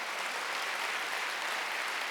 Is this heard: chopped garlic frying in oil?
no